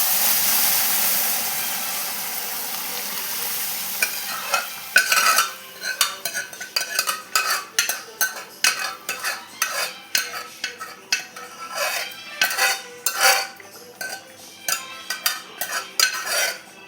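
A utensil stirs chana dal into snake gourd kootu in a pan, scraping and clinking in quick irregular strokes. Soft sizzling runs underneath, and no one speaks.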